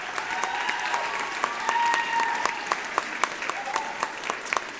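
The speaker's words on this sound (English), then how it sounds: "Would you give the clarinet section a round of applause?" Audience applause for a school band's clarinet section at a spring music program, a sustained crowd of hands clapping with sharp individual claps standing out over a soft sustained tone.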